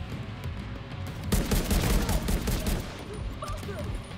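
Video game gunfire in The Division 2, a dense burst of rapid shots and crackling impacts over a steady ambient game backdrop, loudest in the middle before tapering off.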